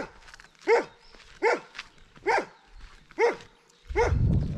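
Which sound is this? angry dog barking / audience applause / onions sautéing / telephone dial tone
angry dog barking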